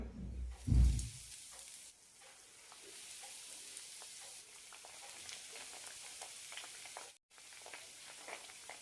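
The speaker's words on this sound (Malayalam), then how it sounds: "മാവിൽ മുക്കിയതിന് ശേഷം ബ്രെഡിൻ്റെ പൊടിയിൽ കോട്ട് ചെയ്തെടുക്കാം ഫ്രൈ ചെയ്തെടുക്കാം" Bread pieces dipped in batter and coated in breadcrumbs for an eggless bread fry sizzle steadily in hot oil, a constant close crackle and hiss after a brief louder clatter at the start.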